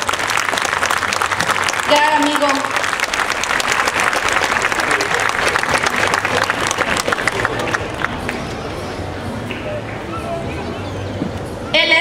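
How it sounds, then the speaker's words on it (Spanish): Sustained audience applause at a DIF Loma Bonita 2017 annual report event honoring the CIAN director, loud and steady clapping with crowd babble that tapers off toward the end, with a voice speaking briefly over it. "quiero brindarle un fuerte aplauso por su valioso apoyo"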